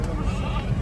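A goat bleats briefly amid the steady crowd noise of a Bakra Eid livestock market in Kahna Mandi, Lahore, with the call partly buried in the background din.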